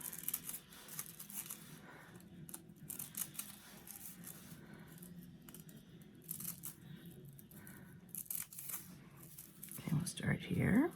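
Scissors snip through folded paper for paper carnations, a run of soft, close crinkly cuts and rustles with brief pauses, growing louder near the end under a faint background hum.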